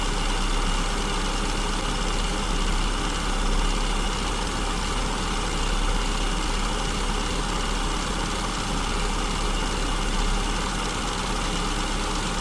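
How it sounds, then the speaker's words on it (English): A car engine idles steadily with a low, even rumble that holds constant throughout and carries no voices. "I can hear the engine smoothing out."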